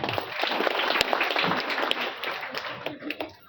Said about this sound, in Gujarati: બંને એક નવી ક્રાંતિ તમારા બધા માટે તાળી પાડી દઈશું